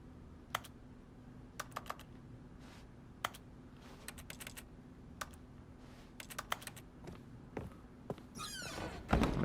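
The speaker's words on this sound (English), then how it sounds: "When I press X, it just does the clicking." Repeated sharp clicks from pressing a button in The Stanley Parable, scattered irregularly over a steady low hum, ending in a louder rushing burst.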